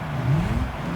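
A Toyota Trueno AE86 engine in Gran Turismo 3 revving up through a gear change, a steady close droning whine that rises in pitch then dips briefly, heard alone.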